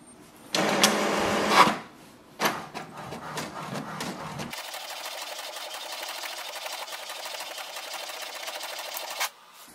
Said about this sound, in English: you can print the setup page